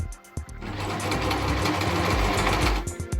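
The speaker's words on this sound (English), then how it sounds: "a 1/4 inch seam along the top, making sure that you take your pins out before you get to the machine presser foot" A sewing machine stitches a quarter-inch seam along the top of a fabric face mask in a steady fast whirring run of about three seconds, starting and stopping with brief clicks, close and loud.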